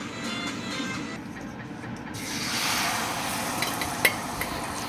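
Beaten egg for an omelette sizzles in a frying pan of oil and butter over medium heat, a close, steady crackling hiss with a faint clink near the end.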